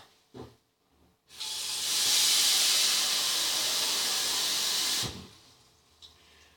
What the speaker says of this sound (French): Vous remplissez votre casserole d'eau, ce que je vais faire.